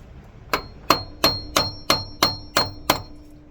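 Seven sharp metallic taps from a hammer striking an RV alternator ring out at an even pace, each with a brief ringing decay, close and distinct against a quiet background.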